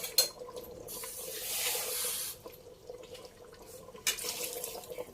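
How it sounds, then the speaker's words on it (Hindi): Water pours in short bursts into a pressure cooker of mutton and pumpkin curry, a bright splashing rush that stops and starts, close and fairly quiet. "थोड़ा सा पानी डालती हूँ मैं इसमें"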